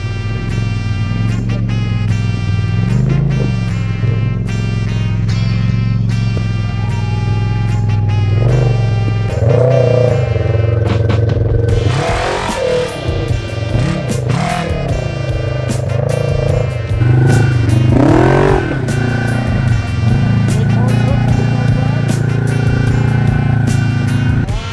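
A Polaris Pro XP side-by-side roaring through mud on Drummond Island, its engine loud and sustained with repeated revving surges and rising pitch sweeps, close and continuous without speech.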